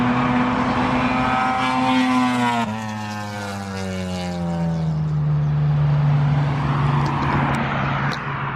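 Mazda FC RX-7 rotary engine on a full-throttle tuning pull, a loud steady harmonic drone that climbs then sags through the pull, sustained with no talk over it.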